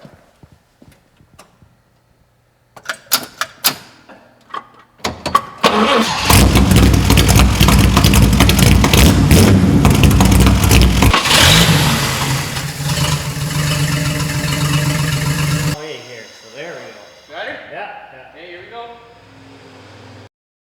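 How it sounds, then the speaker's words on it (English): A 1948 Chevy engine cranks with a few sharp bursts, catches and runs loud and rough for about ten seconds, then cuts out, leaving a quieter uneven idle-like rumble at the end. "we'll give it a crank and see if it still goes"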